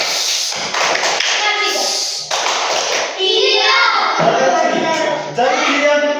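A classroom of children performs the 'tepuk diam' clapping routine, rhythmic clapping and tapping mixed with young voices chanting along, close and loud.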